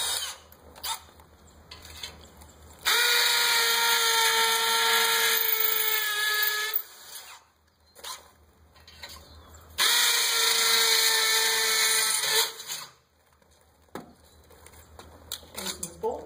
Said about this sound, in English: Put my 1/4-inch bit back in and pre-drill the other two holes.